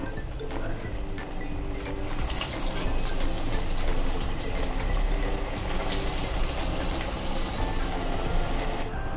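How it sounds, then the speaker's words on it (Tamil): Potato balls coated in bread crumbs fry in hot oil, giving a continuous bright, hissing sizzle that swells slightly a couple of seconds in and holds steady. "இந்த பால்ஸை அப்படியே எண்ணெயில் போட்டு ஃப்ரை பண்ணி எடுக்க போகிறோம்."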